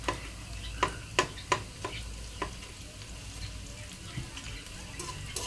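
Five-spice tempering (panch phoron) frying in oil in a well-used wok, with several sharp spatula scrapes and clicks early on over a steady sizzle, then quieter stirring and popping; no talk.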